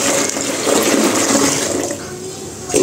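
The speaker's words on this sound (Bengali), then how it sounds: "এই তো এখন এর মধ্যে হচ্ছে সামান্য পরিমাণ একটু জল মিশিয়ে পাতলা করে নেব," A little water is poured into a mixture to thin it, a loud, close rushing flow that runs continuously for a few seconds.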